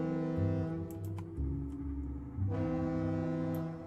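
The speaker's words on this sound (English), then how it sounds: "Yeah, it might be the lighthouse. It might be a foghorn." Deep, sustained foghorn blasts from a lighthouse island in the Treasure Planet: Battle at Procyon video game, two long low tones with a short break between them, sounding loud and close with no talk over them.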